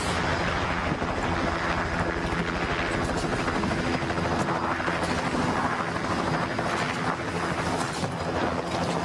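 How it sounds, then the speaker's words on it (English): A helicopter's rotor thuds steadily in a dense, rumbling drone, loud and continuous, with wind noise buffeting throughout. "let's move for a helicopter drop"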